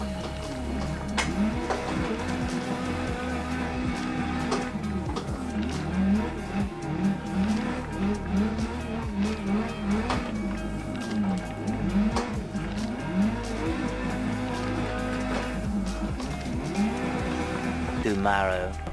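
A car drifts in a racing video game, with repeated rising and falling tire squeals over a constant engine drone; a voice talks intermittently underneath.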